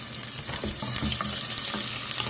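Onions sizzling in a hot pan with ginger already frying, a steady loud crackle with scraping stir sounds, close and continuous, no talk.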